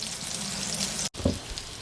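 Shami kabab patties, made without egg, dairy or gluten, sizzle steadily in a hot pan, with a brief cutoff and a small clatter near the end.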